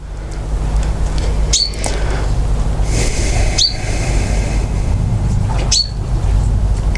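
Three or four shrill bird squawks ring out at intervals over a steady, loud background rumble.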